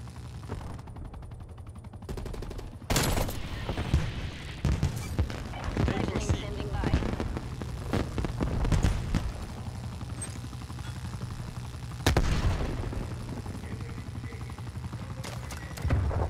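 Gunfire in a Call of Duty: Black Ops Cold War match on PlayStation 5, with sharp loud bursts and scattered shots over steady game noise, while players talk throughout.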